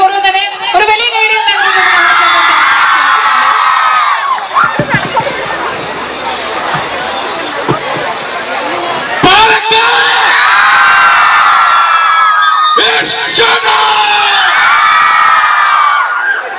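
A crowd gathered to greet a guest at a Palakkad gold loan inauguration cheers and shouts loudly, with high children's whoops surging in repeated waves under and around an amplified voice.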